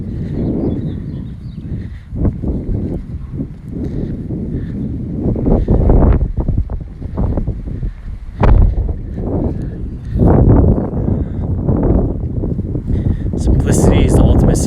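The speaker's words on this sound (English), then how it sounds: "I know it's a little windy." Strong outdoor wind buffets a handheld microphone with a constant low roar and rumbling gusts that swell and fade, loud and close throughout, while someone speaks underneath.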